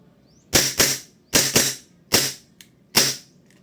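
A WE G17 gas blowback toy pistol with a high-impact roller fires four shots close by at an even pace. Each shot is a sharp crack followed by a quick second snap as the slide cycles, with quiet gaps between shots.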